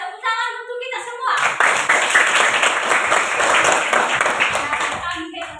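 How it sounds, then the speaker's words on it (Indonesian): Lively clapping from a primary school class breaks out after a teacher speaks, dense and close for several seconds before fading as her voice returns. "Tepuk tangan untuk kita semua."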